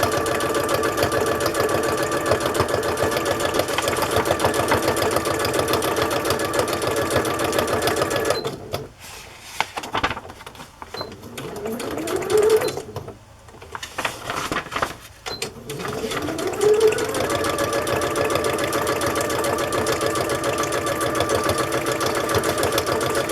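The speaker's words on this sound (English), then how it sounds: "I'm gonna go to straight stitch and do both edges of this lace." A sewing machine straight-stitches along both edges of vintage lace, a fast steady mechanical whirring that runs close and loud, pauses for a few seconds with brief clicks and restarts, then continues evenly to the end.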